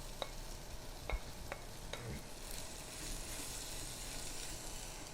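Sliced shallots and large onions fry in a pan, a faint steady sizzle with a few quick scraping clicks of a spoon stirring near the start, then an even hiss continuing alone.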